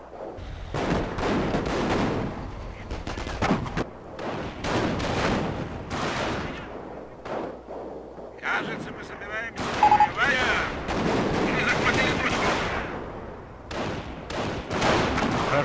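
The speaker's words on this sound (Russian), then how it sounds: "О, сейчас мы все выстреливаем!" Gunfire in a Company of Heroes battle, with dense bursts of rifle and machine-gun shots and some heavier blasts that keep going almost nonstop, loud and close, while a voice talks over parts of it.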